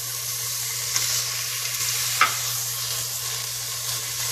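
Onions and green chillies browning in oil in a pan with bay leaf for bagara rice, an even, close sizzle broken by a couple of light spatula clicks.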